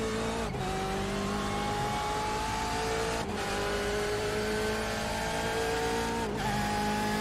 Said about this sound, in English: Hear that engine of these BMW M8s GTE